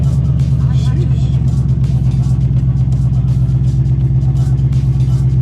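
Ford Mustang with stock mufflers, before a muffler delete, its engine and exhaust running with a loud, deep, steady rumble and slight rev swells close by, with a voice briefly heard over it.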